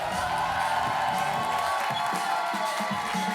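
A studio audience cheers and whoops as a musician is welcomed onto a talk show, a loud crowd roar with scattered shouts and some clapping underneath.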